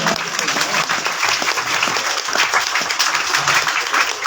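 Steady, dense applause from a school audience at an annual results ceremony in Mandi Bahauddin, greeting a fourth-grade boy named for second position; the clapping runs loud and unbroken throughout with a faint murmur of voices beneath.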